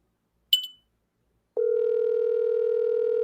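A telephone call from a radio station to a listener: one short click, a second of silence, then a loud, steady electronic phone tone that holds to the end.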